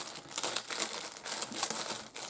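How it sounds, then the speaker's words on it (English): Plastic packaging for diamond-dot craft kits crinkles steadily and up close, a dense rustle of crackles with no voices over it. "they come in a plastic contained package with all the different kits"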